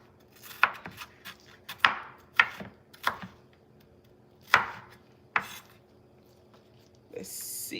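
Onion being chopped with a knife on a board while making a copycat Zuppa Toscana soup: a run of sharp, close knocks in irregular clusters, fairly loud against a quiet kitchen background.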